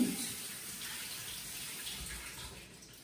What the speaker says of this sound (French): je vais juste les passer sous l'eau froide pour stopper la cuisson